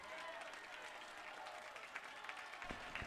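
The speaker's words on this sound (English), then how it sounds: "Bruin crowd getting loud." A home crowd at a high school football game between Life Christian Academy and Pulaski Academy roars and claps in a loud, continuous wash from the stands, with scattered shouts on a breezy evening.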